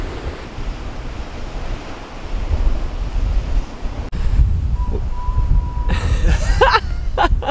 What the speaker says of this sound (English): It's crazy just watching the water eating out the underside of that cliff when the waves come crashing